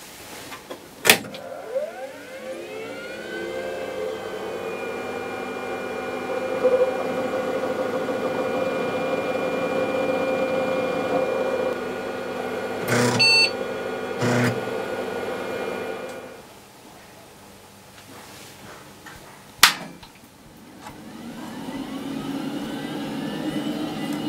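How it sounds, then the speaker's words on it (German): Two old PCs, one a 486, power up: sharp switch clicks, a loud steady whir of fans and drives rising and settling, brief seek chatters midway, then a quieter hum after a final click. "Werfen wir nach der Verkabelung die beiden Rechner wieder an."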